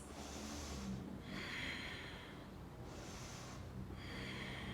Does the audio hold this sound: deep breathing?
yes